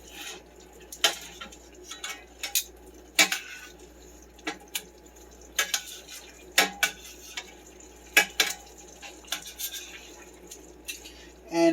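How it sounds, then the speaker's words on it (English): Chicken pieces being flipped in a hot pan of honey mustard sauce, with repeated sharp utensil clinks and scrapes against the pan at irregular intervals over a soft, steady sizzle. "flip these over to coat them"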